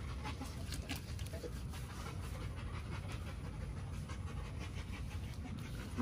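An XL Pitbull pants in quick, rhythmic breaths close by, soft but steady, with a faint clucking of chickens nearby and no talking.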